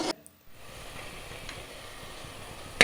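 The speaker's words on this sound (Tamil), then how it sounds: "திராட்சையை வந்து பொன்னிறமாக வதக்கி எடுத்துட்டாங்க நெய்யில்" Raisins frying in ghee until golden, a steady soft sizzle held at low level throughout with no voices, a brief louder clatter right at the end.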